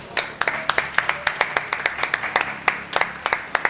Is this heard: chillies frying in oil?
no